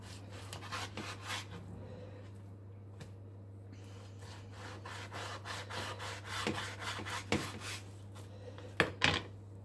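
A knife cutting raw meat into portions for Romanian hunter-style cabbage, heard as soft scraping and rubbing strokes with occasional sharp taps on the board, close and fairly quiet over a steady background hum.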